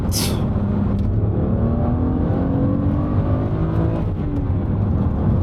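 A BMW N52 engine in a BMW Z4 (E89) pulls hard and steadily, its pitch rising smoothly and continuously over a few seconds, heard from inside the car.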